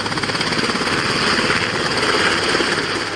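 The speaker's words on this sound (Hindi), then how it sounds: "शांत समंदर में दहाड़ते हेलीकॉप्टर की ये तस्वीरें" A helicopter roars over a calm sea during a US Marines drill, its rotor pulsing in a steady, loud, close chop throughout with no voices.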